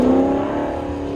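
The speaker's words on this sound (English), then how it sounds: "Michael Arley on the line, 2018 Camaro SS." A 2018 Camaro SS idles and revs at a drag strip starting line, a loud, steady engine drone with a strong low hum held close throughout, no speech.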